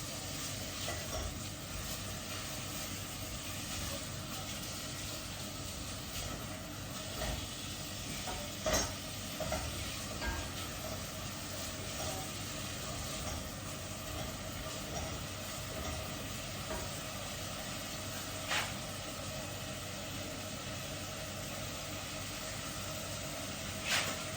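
Onion pan-searing in a hot pan for a pasta dish, giving a continuous low sizzle with occasional utensil clicks and stirs, steady and moderately close with no voices.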